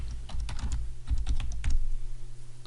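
Someone types a search phrase on a computer keyboard, a quick run of light key clicks in irregular bursts over a low steady hum.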